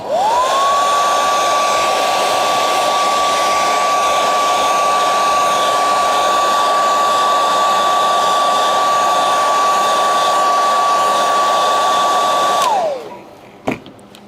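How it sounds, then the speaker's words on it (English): A hair dryer spins up and blows a steady, loud, continuous whine for about twelve seconds while drying material on a puppet being built, then it winds down and switches off with a click. "gotta hit it with a hairdryer"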